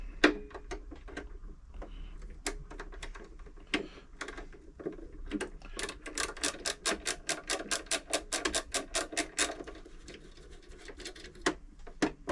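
A screwdriver works on the needle plate of a Brother LS 2125 sewing machine, giving scattered small clicks and then a fast, even run of sharp ratcheting ticks for several seconds before tapering to a few final clicks.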